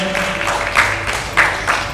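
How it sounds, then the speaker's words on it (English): Audience applause for a panel member at a seated event, a steady, moderately loud patter of clapping with a few sharper claps standing out. "Okay, big round of applause for him as well once again"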